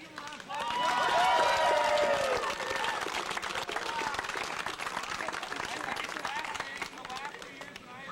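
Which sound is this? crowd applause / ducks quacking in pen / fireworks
crowd applause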